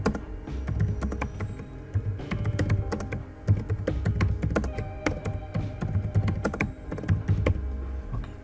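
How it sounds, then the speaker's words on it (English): Rapid typing on a computer keyboard, with clicky, uneven bursts of keystrokes and occasional heavier thunks, close and clear throughout with no voices. "I'm typing it hello world."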